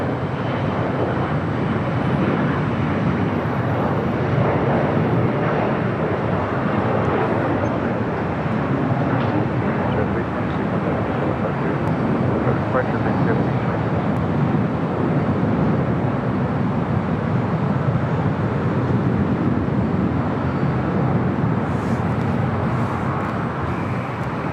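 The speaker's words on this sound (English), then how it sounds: "Waiting on that JSX, now rolling down at 25 right" A JSX jet airplane takes off on runway 25 right at LAX, a steady, loud broadband roar of engines and rushing air that holds evenly throughout with no voices.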